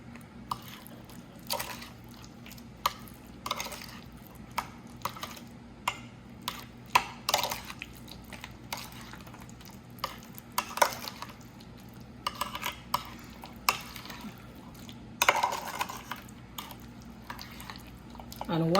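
Potato salad being mixed with paprika in a bowl, giving soft, irregular scraping and clinking taps of a utensil against the bowl, scattered close up over a low steady background hum.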